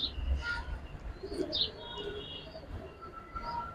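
Low coos of Military Lalpatti pigeons rumble softly amid scattered chirps, with a faint background hum and distant bird calls throughout.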